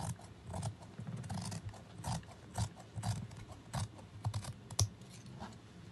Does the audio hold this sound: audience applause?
no